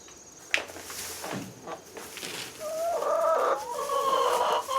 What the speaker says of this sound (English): so Shannon, you like seeing the chickens? Well, let's get them fed